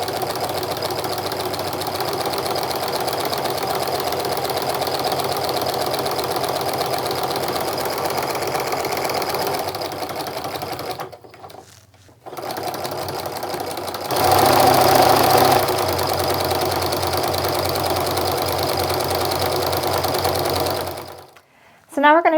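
A domestic sewing machine stitches a 1/4 inch quilting seam on a Christmas stocking, running in long steady bursts with short pauses, a close mechanical whir and knock, while someone talks over parts of it.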